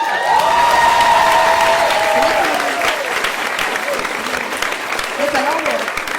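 Stand-up comedy audience applauding steadily throughout, a loud dense wash of clapping with a voice speaking over it for the first few seconds.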